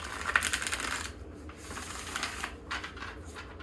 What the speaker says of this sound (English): I'm going to shuffle your cards